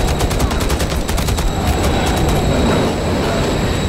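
A train rumbles past in the video game Call of Duty: Modern Warfare 3, a loud, close, continuous roar of wheels with metallic squeals and rapid clatter layered on top.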